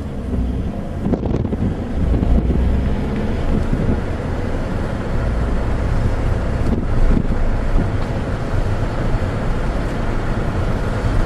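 Strong wind buffets the microphone during low flight over Sweden, a loud, steady broadband rush with gusty low-end thumps that continues unbroken for the whole stretch, with no speech over it.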